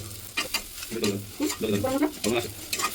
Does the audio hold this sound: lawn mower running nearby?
no